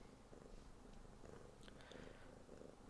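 A cat purrs softly close by in a quiet room, a faint continuous rhythmic rumble with no talk over it.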